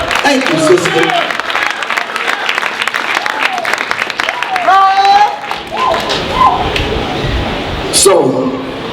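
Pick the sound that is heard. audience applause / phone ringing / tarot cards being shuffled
audience applause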